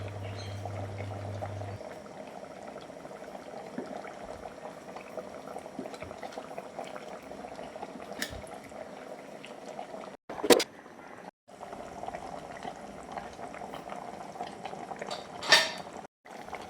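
Kerala-style fish head curry simmers in its gravy, bubbling steadily and close up while it is mixed. Occasional clinks and scrapes of a spoon against the pot cut in, and there is no speech.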